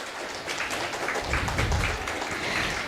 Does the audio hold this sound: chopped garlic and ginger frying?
no